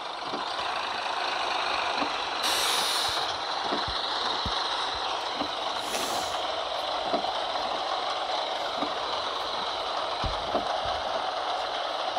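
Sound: school bus parking with air brakes, Bus Simulator 23 video game

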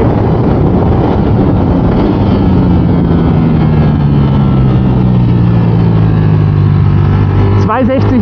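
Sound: Ducati Streetfighter V4S motorcycle accelerating through gears on track

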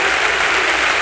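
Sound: church congregation clapping

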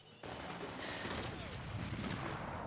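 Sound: gunfire in Max Payne 3 video game

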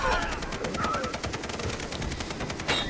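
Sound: gunfire in the video game Far Cry 3

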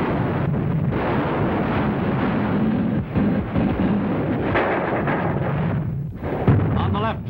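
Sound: enemy gunfire and artillery fire in battle on Peleliu

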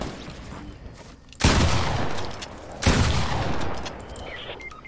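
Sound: Desert Eagle pistol gunfire in a video game

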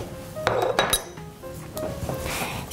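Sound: deep plate and dishes clinking in kitchen

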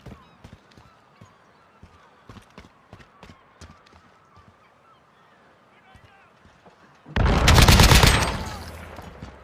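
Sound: AK-47 gunfire in Call of Duty Modern Warfare 2 video game

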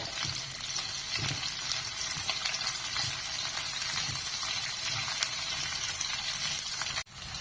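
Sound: sliced onions sautéing in pan

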